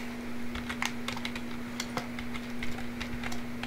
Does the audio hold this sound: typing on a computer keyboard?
yes